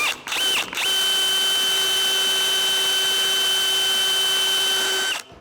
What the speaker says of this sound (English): I'm gonna try to drill the hole just a little bit deeper